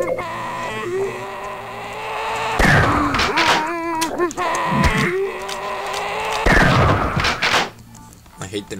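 Barnacle creatures in the horror video game Paranoid make wet, guttural creature noises in two loud bursts among game sounds, with a brief voice at the close.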